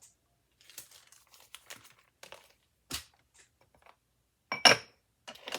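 A vellum bag is cut down by hand, heard as close, scattered crinkles and rustles with a few louder crisp crackles and quiet gaps between them.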